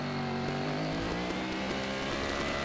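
Several racing motorcycles in an AFM Formula Pacific road race scream past together, a loud, continuous multi-engine roar with shifting pitch as the pack holds close.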